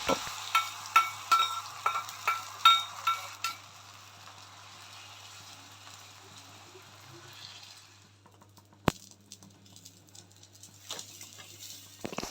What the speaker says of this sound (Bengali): আমি রুটিটাকে একটু ভেজে নিচ্ছি